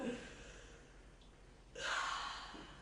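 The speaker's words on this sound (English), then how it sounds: "Deep breath." A patient draws a deep breath during a stethoscope exam in an emergency room, a soft airy inhale followed by a louder, rushing exhale, close and alone without talk.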